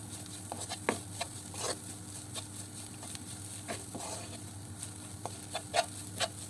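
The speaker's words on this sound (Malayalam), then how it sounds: "ഈ പൊടികളുടെ എല്ലാം പച്ചമണം മാറുന്നവരെ ഒന്ന് വഴറ്റി കൊടുക്കണം" Spice powders with garam masala sautéed in a pan for chicken curry, giving a steady low sizzle with sharp intermittent scraping and stirring taps from a spoon, close by and without talk.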